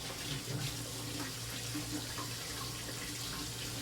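Warm to hot water runs from a tap into a sink before shaving, a steady soft hiss that stays even and faint throughout.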